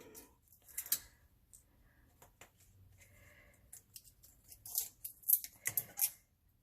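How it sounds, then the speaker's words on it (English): Scissors snipping pieces off craft material for a fall acorn craft, quiet close-up cuts in a loose irregular series, with a cluster of sharper snips near the end. "So we're going to keep snipping off pieces or breaking them off if you can."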